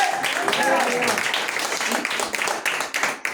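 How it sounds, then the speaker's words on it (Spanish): A church congregation applauds during a Spanish-language gospel service, with a burst of dense clapping that carries on and thins toward the end, with some voices mixed in. "Alguien denle un aplauso al Señor."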